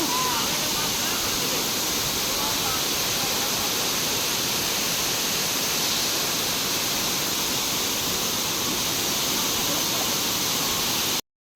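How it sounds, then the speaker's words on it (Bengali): Water released from a dam rushes in a loud, steady broadband roar that never breaks, a close, continuous torrent with no other distinct sounds rising above it. "ড্যামে জল ছাড়া হয়েছে"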